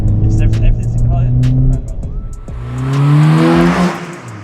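MG3 1.5 car engine fitted with a performance air intake, revving and roaring loudly as it drives by, swelling toward the end, with a person talking over the first half.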